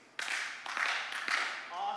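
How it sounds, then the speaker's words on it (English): A seated group at a panel event on education claps in unison three times, three crisp broadband bursts close together at a steady beat, with faint voices around them. "I wonder if from this table down, you can clap"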